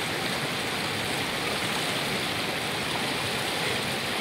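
Cold stream water flows steadily in a continuous, dense broadband rush, close and loud, with no voices over it.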